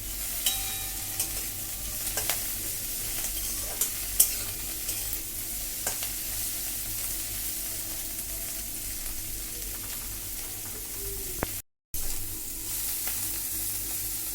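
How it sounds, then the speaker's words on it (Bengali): Prawns fry in hot oil in a pan for a Bengali lau chingri dish, a continuous close sizzle with occasional light clicks and scrapes of stirring and one brief dropout near the end. "তেল গরম হয়ে গেছে, এবারে মাছটা আমি দিয়ে দিলাম, দিয়ে চিংড়ি মাছটা আমি হালকা করে ভেজে নেব"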